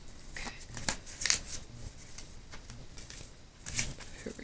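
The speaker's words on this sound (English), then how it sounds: "these cards are, I think they're tired of being shuffled." Tarot deck being shuffled by hand, soft quick riffling and patting bursts that come in a few short clusters with quiet gaps, close and fairly faint, with no speech.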